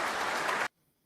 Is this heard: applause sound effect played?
yes